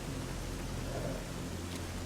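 Steady rain in the video game Stalker Anomaly falls in an even, broadband hiss on an outdoor rainy day, continuous and uniform throughout with no voices.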